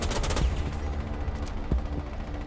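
Rapid gunfire in Rainbow Six Siege, a quick burst of close, loud shots at the start followed by a few scattered single shots, with no voices over it.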